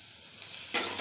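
Mushrooms (chhatu) frying with turmeric in a pan. A soft, steady sizzle runs quietly at first, then jumps sharply louder near the end with a bright hiss and crackle, with no voices.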